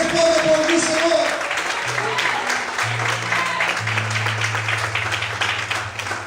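Church congregation applauds during an evening service, a steady wash of clapping at moderate level while a voice rings out early and sustained low organ or bass notes enter beneath.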